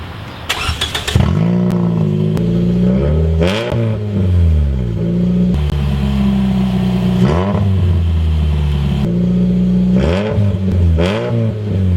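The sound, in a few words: car engine revving with broken exhaust pipe, loud exhaust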